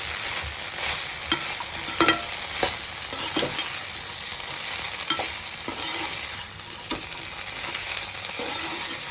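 Kaju chilli paneer with cashews and chopped coriander stirred in a pan over a high flame, a steady loud sizzle broken by repeated scraping strokes of the spoon, with no voices.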